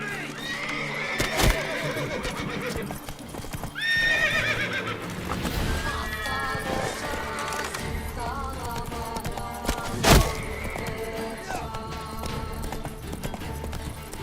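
Roach, the horse in The Witcher 3, whinnies loudly and gallops with rapid hoofbeats over a busy game score and ambience, a sharp impact midway, with voices talking through it.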